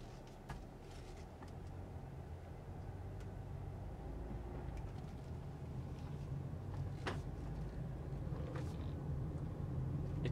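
A 2014 Mazda CX-5 AWD with 35,000 miles drives along a very bumpy road, heard from inside as a low, quiet rumble of road and tyre noise with occasional knocks and thumps from bumps.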